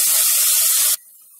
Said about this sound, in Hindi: अब इसमें डालेंगे नमक और 5 मिनट तक मीडियम हीट पे कंटिन्यूस हिलाते हुए इसे फ्राई कर लेंगे